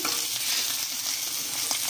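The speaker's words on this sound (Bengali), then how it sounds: "তো বাকি মাছগুলোকেও এইভাবেই আমরা লাল লাল করে ভাজা করে নিচ্ছি" Small puti fish fry in hot oil for a tel jhal dish, giving a loud, close, continuous sizzle with no talk.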